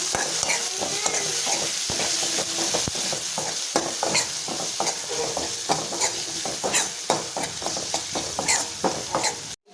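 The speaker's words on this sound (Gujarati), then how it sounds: "તેલ આવી જાય એટલે આપણે નાખવાની છે એમાં હિંગ, ડુંગળીને સારી રીતે સાંતળીશું." Onion sautéing in hot oil with asafoetida, a steady sizzle broken by frequent scraping stirs of a spoon in the pan, close and continuous throughout.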